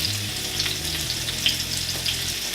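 Vegan food frying in a pan, with a steady close crackling sizzle running throughout and occasional brighter pops.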